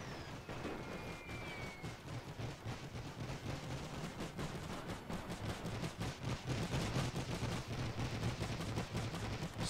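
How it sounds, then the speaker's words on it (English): Battlefield barrage in the World War I strategy game The Great War, with a continuous roar of artillery and gunfire. Dense, overlapping booms and crackles run steadily and loudly throughout, with no voices. "Artillery, fire wherever you see fit."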